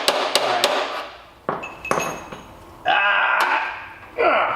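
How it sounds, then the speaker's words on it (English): Sharp metallic hammer strikes on a 1973 VW Beetle engine part ring out one after another, several close blows with clanging resonance and brief pauses between them. "Alright, hammer it again."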